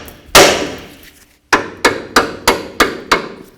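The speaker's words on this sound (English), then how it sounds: "we're going to use a hammer and we're going to hit right on the knuckle" A hammer strikes a steel steering knuckle on a 2007-2017 Ford Expedition, first with one heavy ringing blow, then five quick sharp clangs in a steady rhythm, each followed by a short metallic decay.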